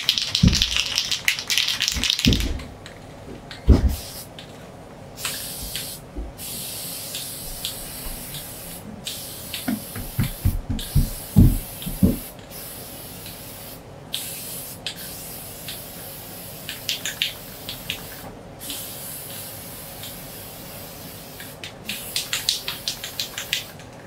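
Aerosol spray hisses in repeated bursts as clear coat goes onto a wooden Cellotar F-style guitar body, with short pauses between passes and occasional taps and rubbing sounds.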